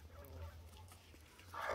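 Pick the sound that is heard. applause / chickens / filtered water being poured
chickens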